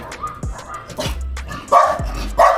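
Several sharp barks from a dog, close by, coming in quick irregular bursts with brief gaps between them, and no talking.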